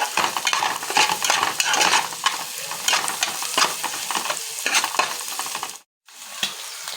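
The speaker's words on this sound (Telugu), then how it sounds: "ఇప్పుడు ముందుగా కట్ చేసి పెట్టుకున్న పచ్చిమిర్చి ఆనియన్స్ కరివేపాకు వేసేసుకోవాలి వేసి హై ఫ్లేమ్లో ఫ్రై చేసుకోవాలి బాగా కలపాలి" Green chillies, onions and curry leaves frying on a high flame with a loud, continuous sizzle, while rapid stirring scrapes and clatters against the pan; the sound briefly cuts out near the end.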